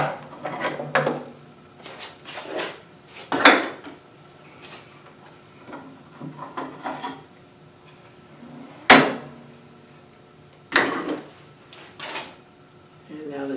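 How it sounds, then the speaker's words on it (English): Clamps coming off a wooden board at a band saw in a woodworking shop, heard as scattered close knocks and clunks of clamp hardware against wood, with a voice speaking at times between the sounds. "I can remove the clamps."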